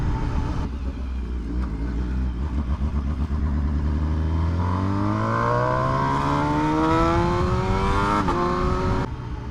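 A straight-piped BMW HP4 Race motorcycle engine revs loudly and close, climbing steadily in pitch over several seconds from a low rumble to a harsh high wail before easing off near the end.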